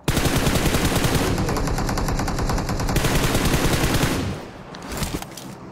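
Rapid sustained MK14 rifle fire in the video game PUBG, a loud dense stream of gunshots running for about four seconds before cutting off into a quieter tail.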